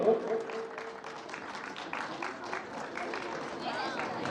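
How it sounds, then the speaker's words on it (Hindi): Applause from the audience at a Youth Committee award presentation, steady scattered clapping at moderate level throughout, with crowd chatter and a voice mixed in. "तालियां बजते रहें दोस्तों।"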